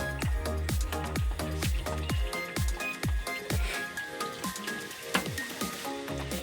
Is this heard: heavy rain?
yes